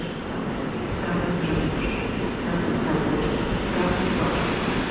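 A train nicknamed Bolek i Lolek passes through Kraków Główny station, a continuous rumbling roar of wheels and carriages at steady moderate loudness, with faint squeal traces above.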